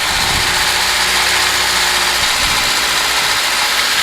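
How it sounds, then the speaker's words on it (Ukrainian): Close, steady idle of a Moskvich 2141 car engine, an even low rumble with a constant mechanical vibration that holds unchanged throughout, with no voices. "двигун працює нормально"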